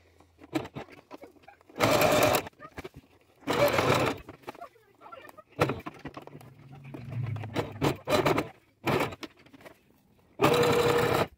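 A sewing machine stitching a swim skirt runs in several bursts, loud and close, with a steady rapid whir-chatter in each one and quiet pauses between them as the fabric is repositioned.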